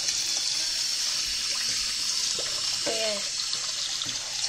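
Water runs steadily from a tap that is warming up, a constant hiss and splash with brief voices speaking over it.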